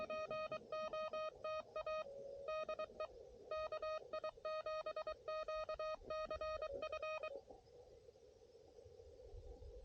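Beeping Morse code question marks over a low-power radio repeat in quick groups of dots and dashes, then stop, leaving faint radio hiss.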